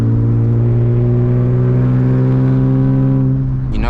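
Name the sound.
manual BMW E36 328i engine and loud exhaust accelerating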